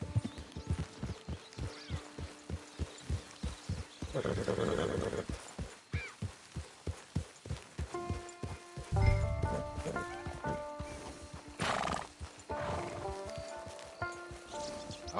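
Horse in the Red Dead Redemption Online video game, with rhythmic hoof clip-clops on the ground, interrupted by a loud whinny around the middle and later a second neigh, mixed with in-game ambience and musical tones.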